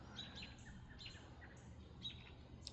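Birds chirping and tweeting outdoors near a cat enclosure in the morning, several short high calls repeating about once a second over a low steady background rumble.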